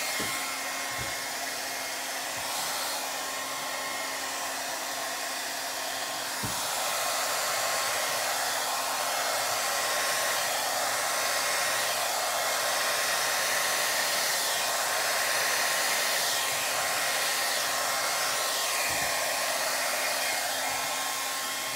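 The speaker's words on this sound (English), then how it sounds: "Dryer set on cool, and like I said, it's just a regular old hair dryer." A regular hair dryer on the cool setting blows continuously with a steady whooshing roar and a faint motor hum, unchanging for the whole stretch, with no talking.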